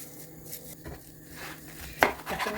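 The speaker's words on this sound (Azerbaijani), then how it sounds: "Ətim o biri rulonda az olduğu üçün biraz da bundan doğrayıram." Knife chopping a roll of cooked meat for homemade doner, a few soft taps on a board followed by one firmer close knock, quiet overall with no talk.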